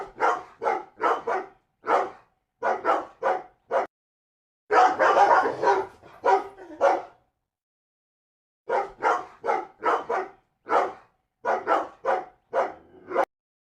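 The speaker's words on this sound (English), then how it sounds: "Number 1. Barking." Dog barking in short bursts of repeated barks separated by brief pauses, with one denser, rougher stretch in the middle; loud and close, with no talk.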